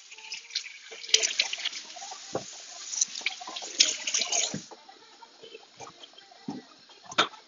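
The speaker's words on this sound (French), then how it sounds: "Je vais les rincer" Vegetables for a Moroccan lamb couscous being rinsed under a running tap, with splashing, dripping water and light knocks against the sink, close and fairly quiet, fading into sparse drips and handling sounds.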